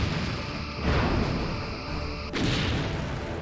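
Quantum torpedoes fire from a starship in the game Star Trek Bridge Commander, two heavy booming launches about a second and a half apart, each followed by a rumbling roar.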